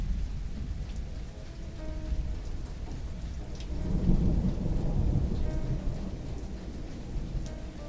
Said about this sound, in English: he veered his small plane into the heart of a merciless storm